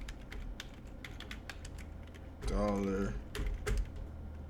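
A computer keyboard being typed on in a quick irregular run of light clicks, close and moderately loud, with a short burst of a voice or other sound cutting across midway.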